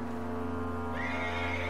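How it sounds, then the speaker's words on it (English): A horse in the video game Red Dead Redemption 2 lets out a whinny that rises partway through, over a steady low in-game hum. "There's a horse."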